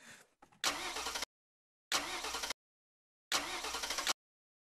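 A petrol car engine cranks in three short, loud bursts, each cut off by a stretch of silence, after a faint rustle at the start.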